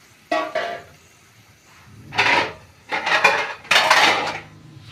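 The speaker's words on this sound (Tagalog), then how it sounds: "Takpan na po natin." A metal lid placed over a cooking pot of Filipino vegetable stew, several sharp clanks and rattling scrapes in separate bursts, close and loud, with no talking.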